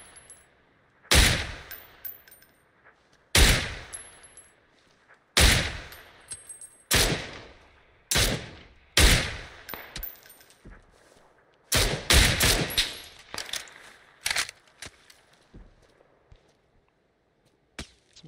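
Video game gunfire: about a dozen sharp, loud shots and short bursts, scattered irregularly and spaced out, each ringing off briefly with a little echo, alone without talk.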